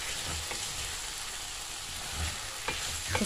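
A filling for oven-baked stuffed flatbreads frying in a pan, a soft continuous sizzle with faint stirring scrapes, fairly quiet and steady, no speech.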